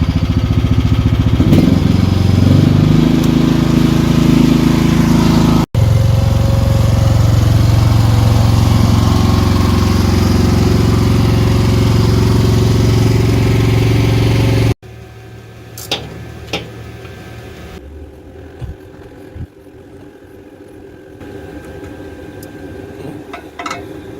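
A Chinese mini excavator's small engine warms up at a steady, loud, buzzing idle, then drops to a quieter, more distant running hum with occasional clicks.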